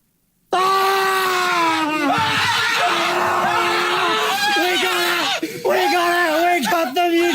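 A person screams loudly and excitedly over pulling a rare Mewtwo Pokemon card, a sustained, high, wavering yell close to the mic that goes on for several seconds with brief breaks and pitch swoops.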